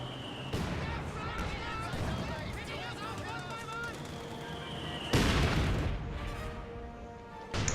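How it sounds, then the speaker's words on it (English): Mortar fire in the strategy game Company of Heroes 2 comes as booming impacts and explosions, with a heavier blast later on, under continuous commentary from casters. "I bet he's cursing that mortar now."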